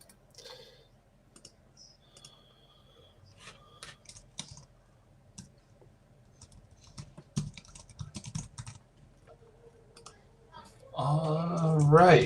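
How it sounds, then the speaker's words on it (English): Someone typing on a computer keyboard during a live music review, with scattered, irregular key clicks and taps close up, building to busier bursts, and a voice coming in over the typing at the end. "I'm typing the top 3 up here"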